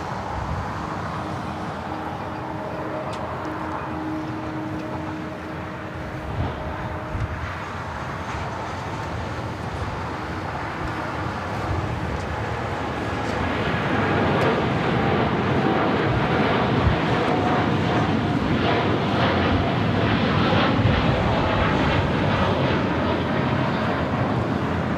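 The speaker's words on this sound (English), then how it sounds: "Japan Airlines, the Dreamliner, 787-8 Dreamliner heading to Tokyo Narita, flight 61, and now rolling down" Japan Airlines Boeing 787-8 Dreamliner rolling for takeoff on runway 25 right at LAX, a broad steady roar that grows louder and denser partway through, with wind buffeting the microphone.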